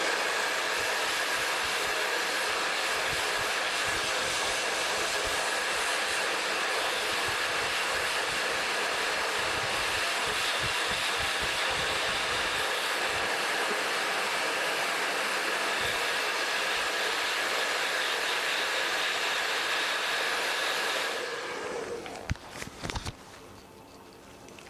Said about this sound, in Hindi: इसको भी दोबारा से हम इसको ड्रायर कर लेते हैं